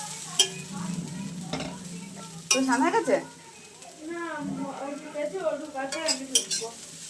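Potatoes fry in a home kitchen pan with a continuous sizzle while a utensil scrapes and stirs them in bursts. Someone talks over the cooking at times.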